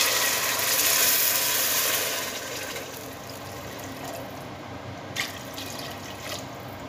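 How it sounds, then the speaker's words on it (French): Water is poured into a pot over lentils and sautéed onions. A steady, close rushing pour is loudest at first, then settles to a softer continuous flow with no voices. "je vais couvrir d'eau"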